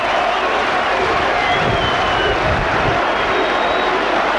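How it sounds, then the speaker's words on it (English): Football supporters at AFC Bournemouth's home match against Blackburn Rovers in December 1988 cheer and applaud their players off the pitch in pouring rain, a steady, dense crowd roar with clapping mixed in throughout, no clear single voice standing out. "the AFC Bournemouth supporters cheering and applauding their players off the pitch"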